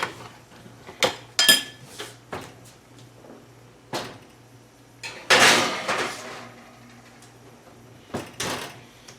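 A tray of garlic roll meatball sliders goes back into a kitchen oven, with loud clunks of the oven door, clattering pans and scattered bumps and knocks, close and irregular with quiet gaps between.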